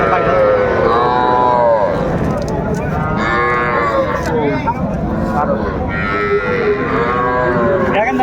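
Loud, drawn-out calf moos repeat several times amid a busy crowd of voices and bustle at a cattle market in Raniganj, Dinajpur.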